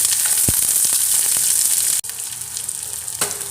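Finely chopped onions go into hot oil with mustard seeds and dal for pepper idli, bringing a loud, continuous sizzling hiss with a few sharp clatters and a brief break midway.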